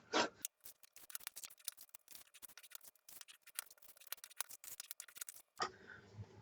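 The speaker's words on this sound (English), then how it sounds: "now take your scissors and I want you to trim the corners, all four corners of all 6 pieces" Scissors snip the corners of paper pieces for a 6x6 mini album, a fast run of small, crisp cuts and clicks heard up close and quiet, with a rustle of paper at the end.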